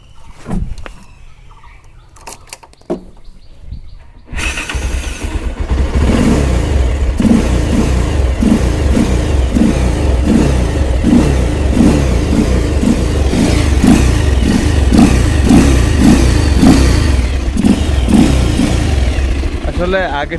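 A Bajaj Pulsar motorcycle engine with its air filter removed, idling roughly before catching and revving loudly and steadily up close, with a pulsing throttle-blipped rhythm; a voice talks briefly in the opening seconds.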